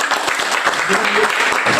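A crowd claps together in dense, steady applause at a school event in Labuhanbatu, North Sumatra, filling the whole short clip.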